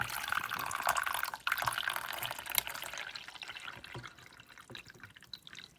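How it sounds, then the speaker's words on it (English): Water pours into a coffee maker's reservoir in a steady stream, then tapers into lighter splashes and drips; no one speaks. "I'm going to pour in the water up to the max fill line"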